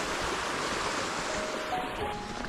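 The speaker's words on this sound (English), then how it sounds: "this is obviously the little river called La Baume, just as the village is called" The little river La Baume flowing beside the French village of Labeaume: a steady, broad rush of water that stays even and close throughout, with no voices.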